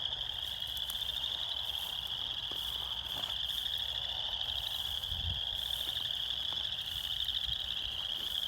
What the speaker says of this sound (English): I'm gonna try to sneak up to this pool so the frogs don't stop singing.